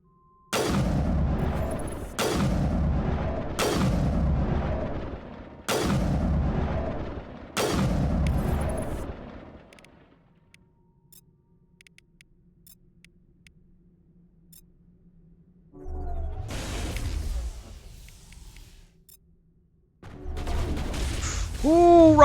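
Rockets exploding in the video game Mass Effect, a rapid series of five loud booming blasts at a steady rhythm, followed by quiet and then further bursts of gunfire and explosions near the end.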